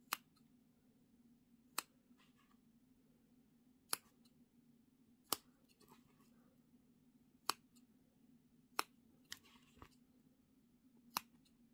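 Scissors trim the sewn fabric seam allowance around the curves of a pet pouch. Roughly nine crisp, close snips sound at fairly even intervals against a quiet, steady background hum, with no talking.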